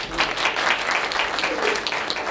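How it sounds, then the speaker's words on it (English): A crowd at a city council meeting applauds, dense and steady clapping at fairly loud level throughout, with no speech over it. "Please clap for them."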